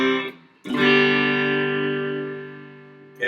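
Electric guitar on its bridge pickup alone, a struck chord ringing out close and sustained after a brief earlier note, decaying slowly with no talk.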